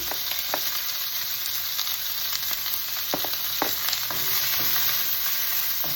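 Onion and garlic fry in butter in a hot pan, giving a steady bright sizzle with a few soft stirring clicks, no talk.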